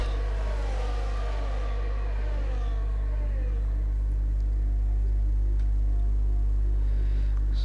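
Retro race cars at Spa accelerate after a safety car period, a loud, steady engine drone with rising revs that starts strong and fades slightly as the cars pull away.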